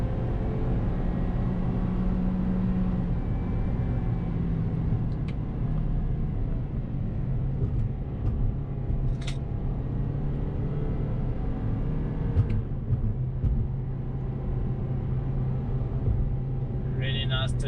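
Cabin drone of a Toyota Corolla XR with a 2-liter engine and CVT automatic on a mountain pass, a steady low rumble of engine and road noise that holds even throughout, with a few faint clicks.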